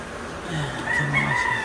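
A seven-month-old gamecock crows, a single drawn-out call rising and wavering over roughly a second, heard at moderate distance against faint background noise.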